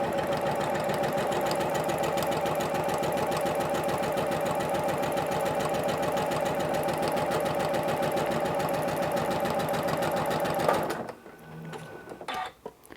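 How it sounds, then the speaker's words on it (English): A sewing machine runs steadily, stitching fabric onto a paper foundation for a strip-pieced quilt block, with a fast, even mechanical rattle for about eleven seconds before it stops and the room goes quiet. "make sure it's where I want it to be before I start stitching."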